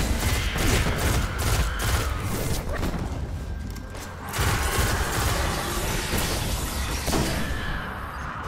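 Sniper rifle gunfire in the video game Destiny: Rise of Iron, a dense barrage of sharp shots and impacts with mechanical clatter, continuous and loud throughout with brief swells, no talking.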